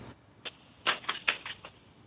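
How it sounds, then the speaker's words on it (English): Sheets of paper shuffled in the background of a live call-in radio talk show come through as a loose series of soft rustles and taps, with no one talking. "We can hear our shuffling paper, all of that, including my own."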